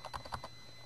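Brief burst of about five quick key taps on a computer keyboard, close and fairly quiet, followed by a low hum.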